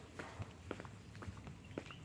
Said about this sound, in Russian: И вы слышите только пение птиц и мои шаги.